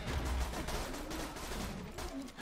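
Rapid bursts of pistol gunfire in the video game Borderlands 2, a dense, continuous volley of close shots filling the whole moment with no talking.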